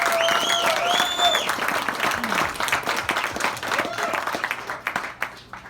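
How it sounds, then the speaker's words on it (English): Concert audience applauding a band at an album release party show, clapping and cheering with whistles and shouts early on, then thinning into scattered individual claps that fade out. "please give these dudes a round of applause."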